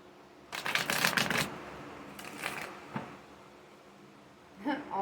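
Shuffling of an alchemy oracle card deck: two bursts of riffling and sliding cards, a single tap, and a short final shuffle, all close and fairly quiet with no talking.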